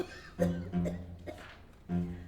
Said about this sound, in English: Lift your head up when you cough.